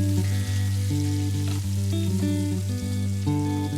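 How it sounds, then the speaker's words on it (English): Food sizzles steadily in a hot pan while a spatula chops it up, with a few soft taps over a constant frying hiss and a steady low hum. "I'm gonna like chop it up a little bit with my spatula."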